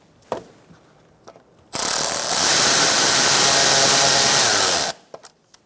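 A power tool whirs steadily for about three seconds, loud and close, tightening a nut on a Buick Encore inner fender liner, with brief clicks and handling noises before and after.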